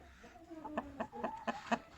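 A chicken clucking inside a coop, a series of about five short rhythmic clucks rising in pitch, close and moderately loud over faint background noise.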